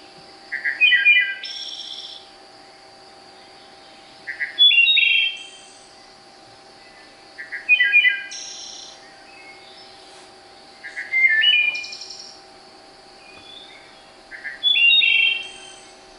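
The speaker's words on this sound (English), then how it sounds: "Here's a wood thrush. Sounds flutish." A wood thrush singing in a historical park, its flute-like phrases repeating about every three seconds, clear and fairly near over a faint steady hum.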